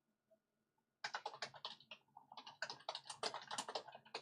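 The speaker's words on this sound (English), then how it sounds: "I'm just typing some things here real quick while we're on." Someone types quickly on a computer keyboard during a live tornado warning broadcast, a close, steady flurry of clicking keystrokes in two bursts after a second of near silence.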